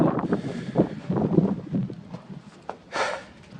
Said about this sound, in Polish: Teraz już słychać wiatr.